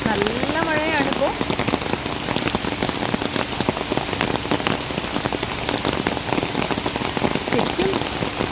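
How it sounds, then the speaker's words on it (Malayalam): Heavy rain pours steadily in a misty forest, a dense, loud, continuous hiss and patter of drops lasting throughout, with a brief faint voice-like sound near the start. "നല്ല മഴയാണിപ്പോൾ."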